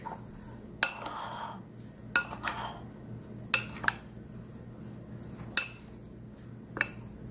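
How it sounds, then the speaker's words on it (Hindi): A spoon mixing chaat masala into sweet potatoes in a bowl, with a series of sharp metallic clinks and scrapes spaced irregularly over a quiet room background. "और अच्छे से मिक्स करेंगे।"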